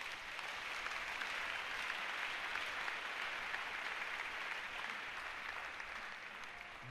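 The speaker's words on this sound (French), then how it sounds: "Acclame le Seigneur Jésus." A church congregation applauding during a sermon, with steady, dense clapping from many hands that fills the space evenly throughout, no voices standing out.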